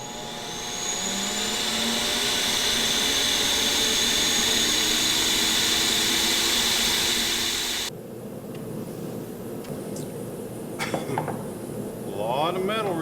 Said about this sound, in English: test number 4, grinding the butterfly throttle shafts